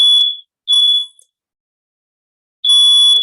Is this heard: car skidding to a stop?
no